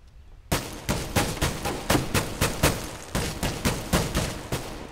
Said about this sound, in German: Die Schüsse kommen aus unserem Spawn, also wo wir die Geiseln wegkriegen müssen.